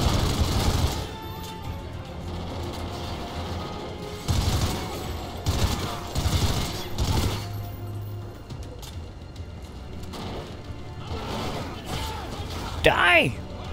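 Enemy gunfire in the video game Call of Duty: Ghosts, bursts of shots and rattling fire at moderate distance, heard under a player talking.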